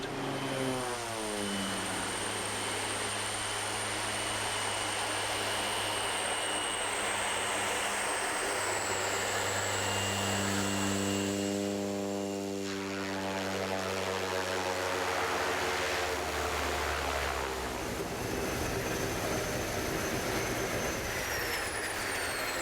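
A propeller-driven ski plane flies over the Tasman Glacier in New Zealand, its engine droning loudly and steadily for over twenty seconds with slow pitch shifts as it passes.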